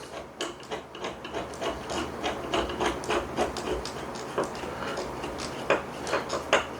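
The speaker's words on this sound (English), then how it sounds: "These screws take forever to screw in." Screws being hand-driven into a smart door handle, a run of rapid clicking ratchet-like ticks from the screwdriver in uneven bursts, close and fairly quiet.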